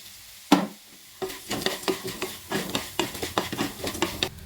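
Noodles for a snack mixture sizzle in a frying pan as a utensil stirs them, making repeated close scraping and stirring strokes over a soft, steady fry.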